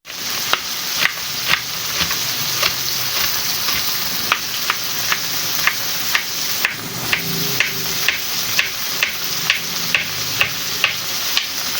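Okra (bhindi) frying in a pan for a bhindi pyaz dish, a loud close sizzle with regular sharp ticks and clicks recurring about once a second throughout, with no voices.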